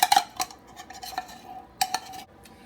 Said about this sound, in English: fold these ingredients together until they're well combined